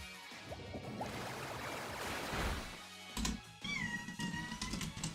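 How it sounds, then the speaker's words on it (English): A cat meows faintly several times over a busy background, with a higher, wavering call near the end. "My kitty cat."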